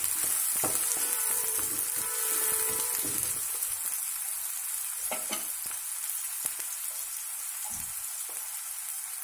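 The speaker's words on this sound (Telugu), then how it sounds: "అవి ఆనియన్స్ వేగుతున్నాయి కదా" Onions frying in a pan for soya granules egg curry, a continuous bright close sizzle with occasional spatula scrapes and taps, no voices.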